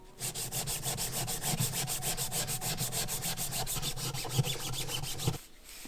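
Rhythmic back-and-forth rubbing of a cloth polishing a rusty steel seat post from a vintage Peugeot road bike, about twenty fast even strokes up close, stopping abruptly near the end.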